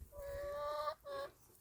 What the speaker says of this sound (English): I'm recording the chickens.